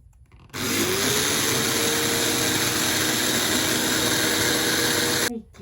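A blender whips milk with 10% cream, starting abruptly into a loud, steady whirring motor drone that holds for about five seconds before cutting off.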